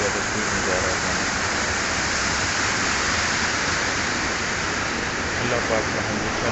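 Floodwater rushes under Kashti bridge in Nowshera, a loud, continuous roar of high-pressure, fast-moving water that fills the whole stretch without pause.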